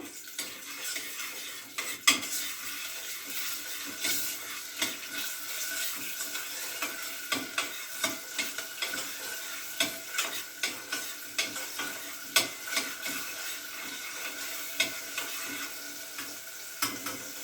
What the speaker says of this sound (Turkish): Bir yemek kaşığı koyduğum salçamı dibinde biraz yakacağım.